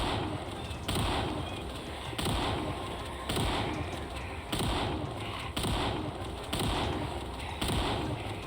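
Repeated heavy shotgun blasts in the video game Project Zomboid, about one per second, each a dull boom over a steady background hum.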